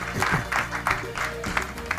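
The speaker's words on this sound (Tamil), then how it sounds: "கைத்தட்டுங்க" An audience claps at a Mrs Home Maker contest event, with a burst of scattered, moderately loud applause mixed with crowd noise and some voices.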